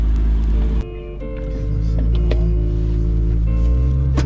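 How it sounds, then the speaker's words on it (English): A 900-horsepower high-performance car engine idles on a cold start, with a deep, steady low rumble that dips briefly and then settles into a smooth, moderately loud tick-over. "it's not as loud as I thought it would be on the tick over. And this is cold start as well"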